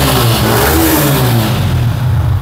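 An Indonesian-version Yamaha R15 V3 motorcycle with 21,000 km on it revs loudly up close, its engine note rising and then easing off over a couple of seconds.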